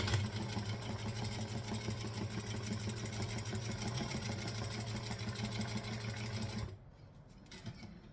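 A sewing machine stitching back over its original stitches hums in a steady, fast whirr for several seconds, then stops abruptly, leaving quieter room sound.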